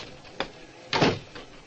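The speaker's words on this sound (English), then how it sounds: "The door through which Peggy McConnell passed was at City Hall" A door at City Hall opens and shuts as a radio-drama sound effect: a faint click, then a louder thud about half a second later, with no talk.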